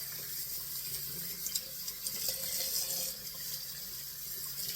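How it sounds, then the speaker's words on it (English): A shaving brush with a fan-shaped knot is rinsed under a running tap, producing a steady, bright hiss of flowing water that continues evenly throughout, fairly quiet and close, with no talking. "I want to wash this brush out and let you see it"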